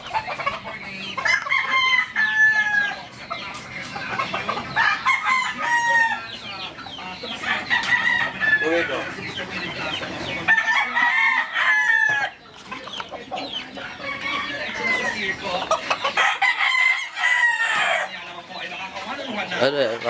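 Chickens, roosters and chicks on a farm, loud continuous clucking and crowing close by, with people talking in between.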